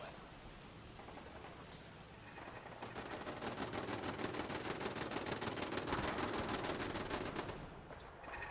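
Automated turrets in the video game Fallout 4 open fire in a dense, sustained rapid burst of gunfire, loud and continuous for several seconds before cutting off, following a quieter stretch of game ambience.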